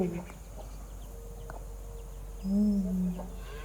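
A few chickens cluck softly in short, scattered calls, with one louder drawn-out note near the end, over quiet outdoor background.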